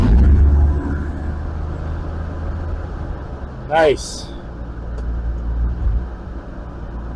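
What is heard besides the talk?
1954 Chevy 3100 truck engine starting and running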